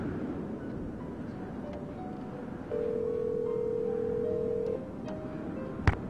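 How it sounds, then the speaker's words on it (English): A telephone rings inside the Nancy Drew video game as a steady electronic tone over a low background hum, ending with a brief sharp click. "Dexter, answer the phone, damn it."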